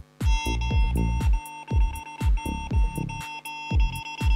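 A Huawei Watch GT Cyber smartwatch emits loud, rapid electronic beeps in repeated bursts with short pauses between, pushing water out of its speaker, close and alone.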